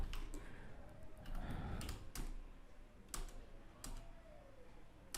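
Computer keyboard keys tapped in short irregular bursts while a command is entered for a Node.js web scraper project, close and moderately quiet, with no talking.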